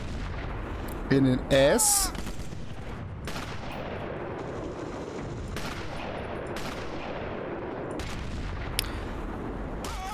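Sniper rifle shots in the video game Sniper Elite, sharp, loud cracks repeating every second or two over a dense battlefield din, with someone talking through the gunfire.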